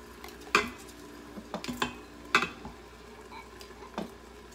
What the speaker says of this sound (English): you're gonna stir that around and cook it in there for about a minute